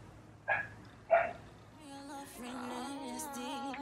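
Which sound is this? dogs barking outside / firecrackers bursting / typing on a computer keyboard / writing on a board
dogs barking outside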